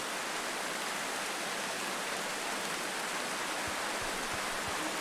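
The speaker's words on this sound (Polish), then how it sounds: "A, jak ja uwielbiam dźwięk deszczu." Steady rain hiss in a post-apocalyptic train video game fills the scene, dense and even throughout, with a few soft low thumps near the end.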